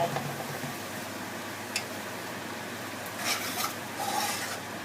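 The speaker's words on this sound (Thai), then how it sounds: "ผัดให้หอมอีกรอบนึงนะคะมันจะน่ากินมากค่ะ" A spatula scrapes and stirs curry paste with canned fish and chilli in a pan. The scraping and stirring is quiet and steady, with a few brief louder strokes and no talk.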